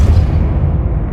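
A Depulso force spell blasts in Hogwarts Legacy, a single heavy, booming thump with a deep low rumble that fills the short moment loudly and up close.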